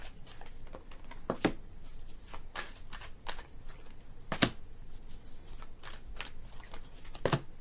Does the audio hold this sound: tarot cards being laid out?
yes